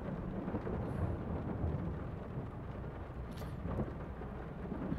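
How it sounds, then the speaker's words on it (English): Steady rain pours throughout in woodland, with a low thunder rumble rolling underneath, constant and enveloping. "I actually love the sound of rain, especially with a little bit of thunder like this."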